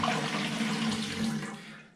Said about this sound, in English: next step is we are going to put some water in and make sure this thing doesn't leak at all.